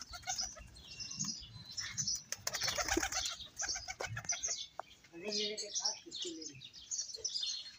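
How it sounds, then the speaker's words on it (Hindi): Pigeons and other birds flutter, coo and chirp in a busy flock being fed grain, with wing flaps and scattered calls close by and a voice now and then. "अभी कबूतरों को खाना देते हैं"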